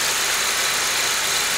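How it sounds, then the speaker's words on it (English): A warm 2008 Saab 9-3 2.0T four-cylinder idles with a steady, dense hiss and hum, close and unbroken throughout. "The engine is running very good."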